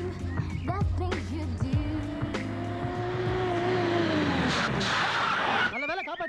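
A car speeds up with a rising engine roar, then its tyres squeal in a long skid to a sudden stop; loud and close, with voices and music overlapping near the end.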